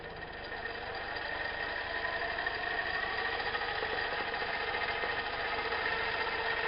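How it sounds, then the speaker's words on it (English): A small PWM-controlled electric motor whirs steadily and close by, a continuous humming drone that holds fairly even throughout with no voices. "now we'll go ahead and watch the motor here while I turn this up now."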